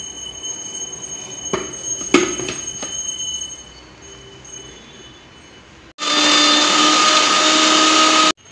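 A mixer grinder blends nuts, carrot, jaggery and cardamom, starting with a loud, steady, close whirring roar after a few seconds of quieter clatter and knocks, running for about two seconds before cutting off.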